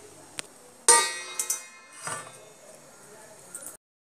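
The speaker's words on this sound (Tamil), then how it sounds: "பார்த்துட்டு நம்ம மூடி போட்டுடலாங்க" A metal lid set onto a chicken biryani cooking pot, giving one sharp clang followed by a few lighter clinks and rattles as it settles, close and brief against a quiet background.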